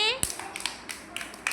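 A small group of schoolchildren claps for a classmate during a colour hunt game, producing a quick, uneven burst of light claps. A voice is briefly heard at the start.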